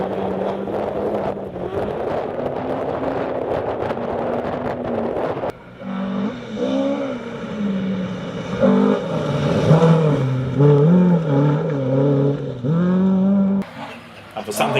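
A Ford Escort rally car with a BDA engine at a historic stage rally in Mid Wales, its engine roaring and revving hard through shifting pitches, loud and close with wind buffeting the microphone.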